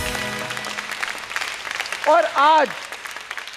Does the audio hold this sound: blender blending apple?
no